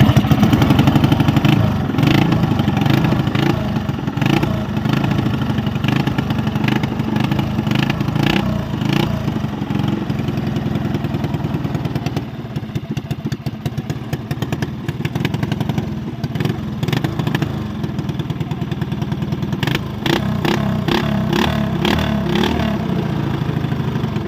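A motorcycle engine runs steadily for a long stretch during preparation for a race, close and loud, with a brief dip midway and then rougher clattering revs toward the end.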